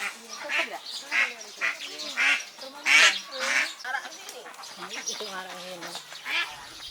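Ducks on a duck farm quack in a busy, overlapping chorus of nasal calls at close range, steady throughout with no voices.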